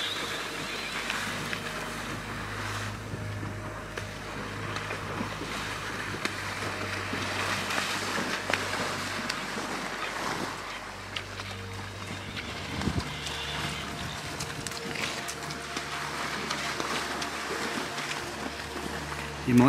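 Wild New Forest ponies splashing about in a lake, with faint irregular splashes and water sloshing over a steady outdoor background of wind and low rumble.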